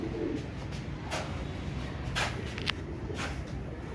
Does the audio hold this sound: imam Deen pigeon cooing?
yes